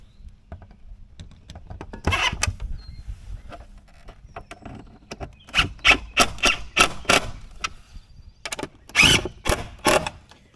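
A screw gun drives screws into the skimmer box of an above-ground pool, giving irregular bursts of ratcheting whirr and clicks between quieter handling noises, close and fairly loud.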